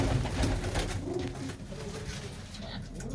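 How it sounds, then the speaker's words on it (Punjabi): Pigeons in a loft keep up a steady round of low, throaty cooing, several birds overlapping close by, with soft rustling and some faint background noise. "ਇਹ ਨੇ ਵੱਡੇ ਕਬੂਤਰ ਬਾਈ ਹੁਣਾਂ ਦੇ ਜਿੰਨੇ ਵੀ ਤੁਸੀਂ ਦੇਖ ਰਹੇ ਹੋ"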